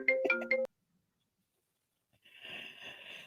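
A telephone rings in a short burst of tonal trilling at the start, then cuts off; after a long silence, faint voices and a phone-line style sound follow.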